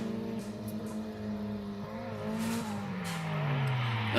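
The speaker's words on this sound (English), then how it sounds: "the black car had a good snappy entry this time. Cruising through the course." Black drift car running the Mineral Wells drift course, engine holding a steady droning note that sags in pitch then builds louder toward the end, close and continuous with faint tire noise.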